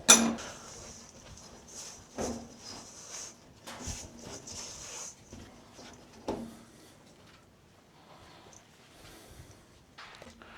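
Bread flour and salt being mixed by hand in a bowl, heard as scattered soft clinks and taps of a utensil against the bowl, fairly quiet, with no talking.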